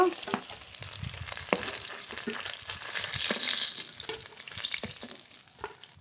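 Pointed gourd and hilsa fish pieces frying in hot oil, giving a loud, continuous close sizzle broken by irregular clatters of stirring and turning the pieces.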